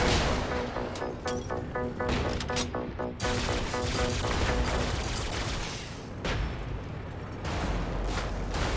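Mortar fire in the game Brigador, a steady barrage of dense booming bursts and crashes, loud and continuous with no gaps.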